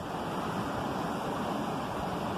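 A park waterfall rushes in a continuous broadband roar, steady and fairly close, with no voices over it.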